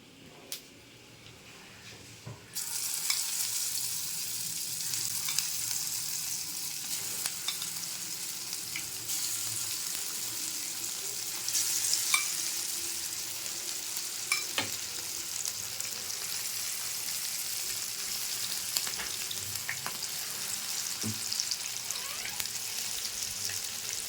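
Chicken fries in hot oil for chicken fried rice, a loud continuous crackling sizzle that starts abruptly after a quiet moment and carries on with occasional pops and light utensil knocks.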